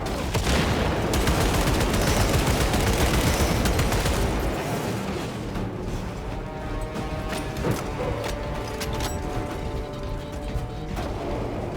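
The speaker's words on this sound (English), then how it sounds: "Deploying frag grenade." Frag grenade blast and gunfire in Warhammer 40K Space Marine 2, a loud dense burst of explosion and shooting for the first few seconds, then a lower rumble of combat with scattered clanks and shots.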